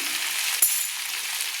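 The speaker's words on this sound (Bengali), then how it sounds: "আবারও তেলের মধ্যে কিন্তু সবগুলোকে একসঙ্গে আমি 1 মিনিট ধরে কষিয়ে নিচ্ছি" Spices and chili powder with salt sizzle in hot oil in a pan for a vegetarian dal, a steady close hiss throughout with one small clink partway through.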